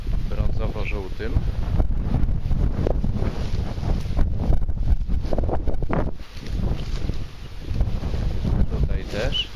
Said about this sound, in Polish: już się zrywa wiatr i już będzie koniec pracy